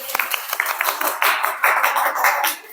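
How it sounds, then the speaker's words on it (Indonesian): A classroom group of men applauds with quick, uneven hand claps that overlap densely and run for about three seconds, close and moderately loud. "Kelompok pria, beri tepuk tangan dong"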